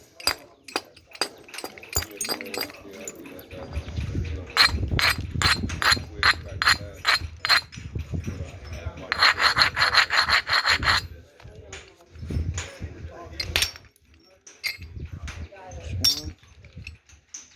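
Edwards chert being knapped at a knap-in in Brady, Texas, with spalls struck off: close, sharp clicks and knocks mixed with gritty scraping and rubbing of stone, irregular and moderately loud throughout.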